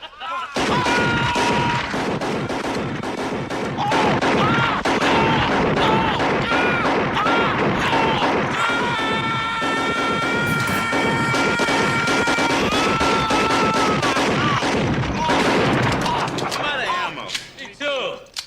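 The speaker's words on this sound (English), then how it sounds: "they shoot him a ridiculous amount of times until they get him one, like, up in the side of the head" Dense gunfire from a shootout scene in the 1987 film Robocop: loud, rapid, continuous shots and impacts rattle on for many seconds over tonal film sound, fading near the end.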